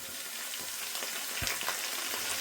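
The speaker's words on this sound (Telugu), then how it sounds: "ఇప్పుడు ఇది కొంచెం వేగాలి." Ingredients for a spinach chicken curry fry in a pan, giving a steady, close hiss of sizzling with a few light stirring knocks over a short stretch. No talk.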